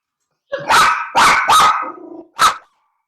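A dog barks in a run of four sharp, loud barks close by indoors, with a brief lower growl between the third and fourth, in a home kitchen where matzah is being made.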